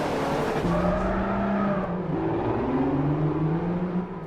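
Racing engines roar and tires squeal in the Forza 4 video game, with sustained, loud engine drones rising and shifting in pitch continuously throughout.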